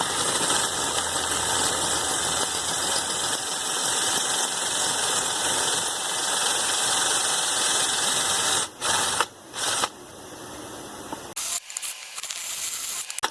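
A drill cutting a valve seat in a rebuilt 400 small block Chevy cylinder head: a loud, steady, close-up whine and rattle that runs continuously, then breaks off in several short stops and restarts near the end.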